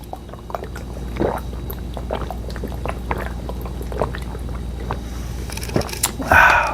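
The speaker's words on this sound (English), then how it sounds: "Gonna drain this water." Water being drained and poured out in a kitchen, with intermittent splashes and gurgles over a low hum, ending in a louder rush of liquid near the close.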